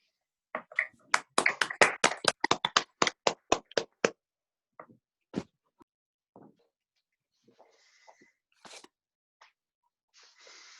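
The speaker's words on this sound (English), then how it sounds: "I wish everyone to give a big round of applause for Able Cadet Yashavir Graywall." A small group of cadets and officers clapping for a cadet at a ceremony, probably over a call, a few sharp, sparse claps building into a brief flurry, then trailing off into isolated taps and faint noise.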